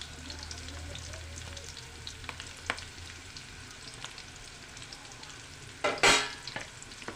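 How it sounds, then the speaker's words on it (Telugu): Onion, green chilli and curry leaves fry in hot oil in a pan, giving a steady close crackling sizzle with scattered pops and a sharper burst of spitting near the end. "ఇది లైట్గా బ్రౌన్ కలర్లోకి వచ్చేదాకా ఫ్రై చేసుకుందాం"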